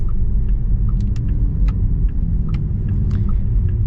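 A 2024 Porsche Taycan electric car's low, steady rumble fills the cabin while driving in Sport Plus mode, with faint clicks and ticks above it and no one speaking.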